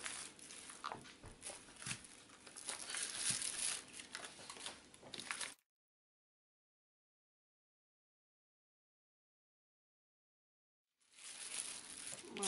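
Cellophane wrap crinkles around a portion of butter set aside for puff pastry dough, with close, busy rustling for about five seconds, then silence, then a short burst of handling again.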